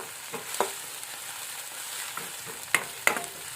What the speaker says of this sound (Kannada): ಉಳ್ಳಾಗಡ್ಡಿ ಕೂಡ ಇದನ್ನು ಒಂದು ಸ್ವಲ್ಪ ಫ್ರೈ ಮಾಡ್ಕೊಬೇಕು ಚಂದ ಕೆಂಪುವಾಗಂಗ